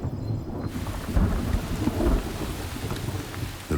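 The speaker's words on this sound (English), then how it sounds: "the rains appear with more frequency." Heavy rain falls steadily during an African wet-season shower while low thunder rumbles and rolls through, loud and continuous across the whole stretch.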